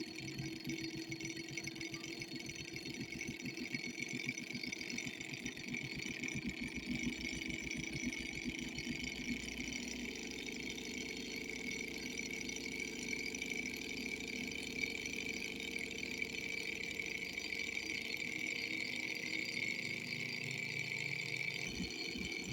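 A small model Stirling engine runs steadily, a continuous faint mechanical hum with a rhythmic fine ticking, close and alone.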